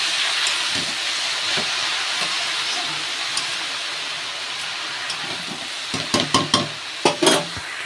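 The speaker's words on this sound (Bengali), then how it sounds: "শাকগুলো দিয়ে ভালো করে এবার ভাজবো।" Steady, loud hiss of fenugreek greens frying in a hot pan, with a few sharp stirring clatters near the end.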